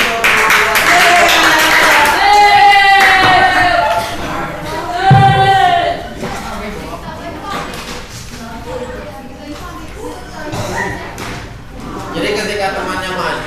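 Applause from a class of elementary school pupils during a teacher-training lesson, with a burst of clapping at the start that fades under ongoing voices and classroom chatter.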